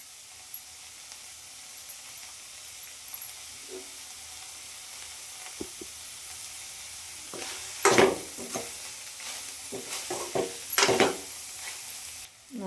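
Spicy village-style blood fry sizzling in a pan as coriander leaves go in, a low steady frying hiss with scattered stirring scrapes and louder bursts of sizzle toward the end.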